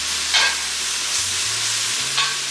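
Minced garlic sizzles steadily in a pan of beef stir fry, a constant close frying hiss with a few brief stirring scrapes and no talk.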